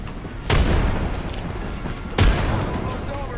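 Two heavy booms from a frag grenade and gunfire in a shooter video game, the first near the half-second mark and the second about two seconds later, each a loud broadband blast that fades into a rumbling tail with no speech.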